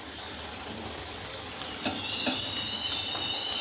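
Garlic paste goes into hot oil with browned onions, a steady close sizzle with a few soft stirring scrapes and a brief rising hiss as the paste hits the pan.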